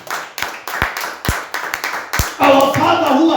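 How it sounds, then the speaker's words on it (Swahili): A church congregation claps in a steady series of sharp, separate hand claps that swell into fuller applause near the end, with a voice rising over the last second. "Tupigie Bwana makofi mazuri."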